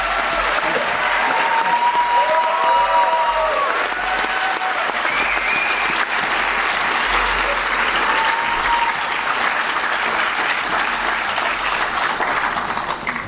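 Sustained applause from an audience at a cadet graduation ceremony held in cold December weather, a steady dense roar of clapping lasting throughout with a few faint voices mixed in.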